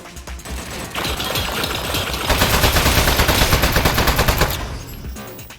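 Turret gunfire in the video game Aperture Desk Job, a loud, sustained machine-gun stream of rapid close shots that builds, holds for a few seconds and then cuts off.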